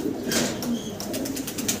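A pair of blue gold Archangel pigeons coo softly up close, with brief wing flaps and rustling mixed in over a short stretch.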